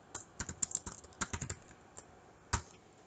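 Someone types on a computer keyboard while coding, producing quick clustered keystrokes close by, a short pause, then one final louder key press, with no talk.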